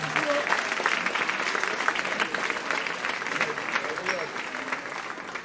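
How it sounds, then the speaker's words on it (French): An audience claps steadily for a church gospel music group at a praise concert at the Millenium, a dense, sustained round of moderately loud applause with some voices mixed in. "Un petit applaudissement pour eux"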